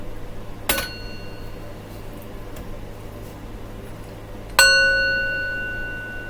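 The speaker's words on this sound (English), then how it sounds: "we're gonna start with our gong first" A gong is struck twice in a quiet room, a light hit followed a few seconds later by a stronger one that rings out with a long, slowly fading metallic shimmer.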